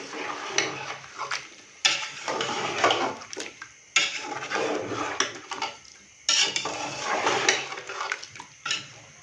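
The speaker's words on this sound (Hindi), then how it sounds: "सब्जियां डालने के बाद अभी मैंने इसको अच्छे से मिक्स कर दिया है।" Chopped carrots and peas being stirred in a metal cooking pot, spoon scraping and clinking in repeated bursts separated by short pauses, close and fairly loud.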